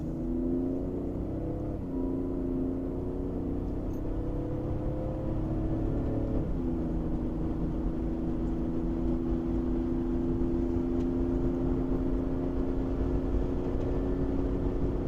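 BMW on a highway test drive, engine droning and climbing steadily in pitch as it pulls hard, a smooth continuous interior roar with faint shifts early on.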